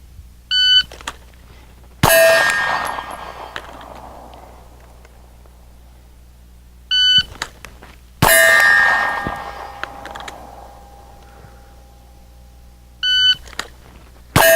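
Competition shooting shot timer gives a sharp electronic start beep, followed by a loud, ringing gunshot; the pattern repeats three times at a range, each beep short and clear before the heavy report and its decay.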